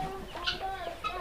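Hens on a small farm where eggs are laid on the ground give soft, broken clucks in short bursts, fairly close, over steady barnyard background noise.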